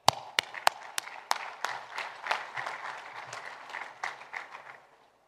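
An audience at a Saudi Responsible Competitiveness Index event applauds to welcome a speaker to the stage. A few sharp, loud claps open into steady, moderately quiet applause that thins and stops after about five seconds.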